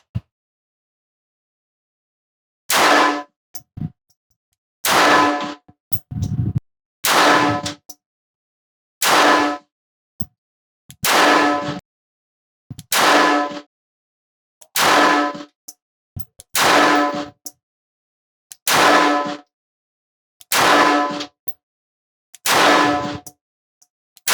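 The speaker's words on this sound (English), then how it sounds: "Let's do that at our left-hand target, and then I'll fire approximately the same number of rounds through the P238." Pistol shots from a Ruger Security 380 and a Sig P238 at an outdoor target range, about eleven loud sharp cracks fired one at a time at a steady pace, roughly two seconds apart, with quiet gaps between.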